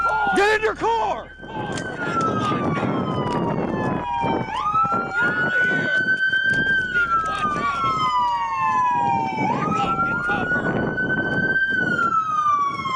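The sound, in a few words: police car sirens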